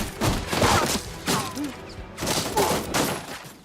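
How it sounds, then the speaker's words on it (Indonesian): Gunfire erupts in an action film shootout after a bomb blast, bursts of sharp shots and thuds clustered in several heavy volleys with brief lulls, loud and dense. "Dimulai dengan ledakan bom yang sudah disiapkan oleh Painter, lalu dilanjutkan dengan baku tembak."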